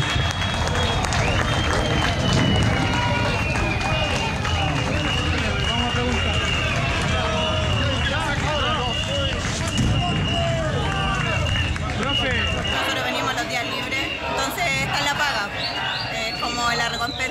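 A crowd at a street protest applauds medical emergency workers, with dense, steady clapping filling the whole stretch, mixed with crowd murmur and occasional higher whistle-like tones.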